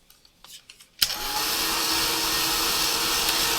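A heat tool fires up with a click on an art journal page and then blows a loud, steady roaring rush after a few faint soft taps, close by with no talking.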